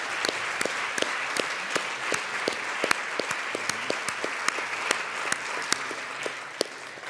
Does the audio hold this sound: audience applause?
yes